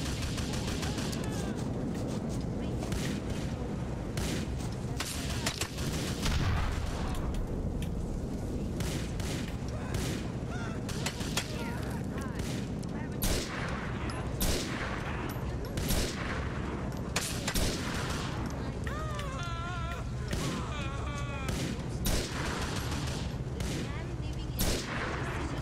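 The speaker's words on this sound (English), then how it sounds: "I think I'm gonna just start chucking grenades." Continuous gunfire and grenade blasts from Grand Theft Auto IV fill the whole stretch, with dense rapid shots, repeated sharp cracks and heavy booms over a steady loud game soundscape.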